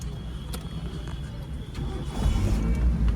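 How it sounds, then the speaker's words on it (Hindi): A car engine on a learner's highway driving lesson starts, with a low rumble swelling in the last second over steady cabin noise and faint talk. "तो अभी आप इंजन ऑन कर लीजिए।"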